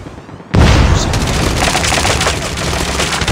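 An EMP detonates in the mobile shooter COD Mobile, erupting suddenly into a loud, sustained crackling roar that fills the rest of the moment without any talk.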